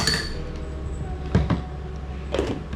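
Metal spoons clinking against a bowl while a creamy cucumber salad with cream cheese is prepared: a few sharp, bright clinks in two small clusters over a steady low background hum, with no talking.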